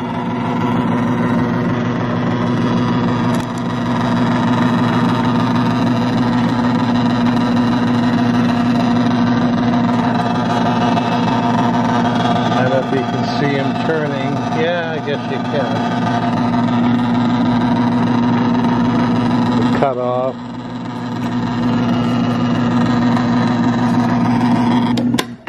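A Shimpo NRA-03 ceramic clay pugmill with twin augers and gear reduction, 115-volt with a 3-inch extruder tube, runs with a steady motor drone and gear hum throughout, loud and continuous, with a person talking over it.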